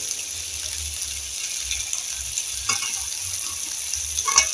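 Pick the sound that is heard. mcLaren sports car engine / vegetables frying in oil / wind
vegetables frying in oil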